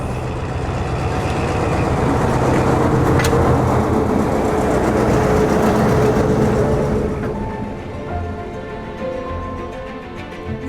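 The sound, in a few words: heritage railway locomotive running in the evening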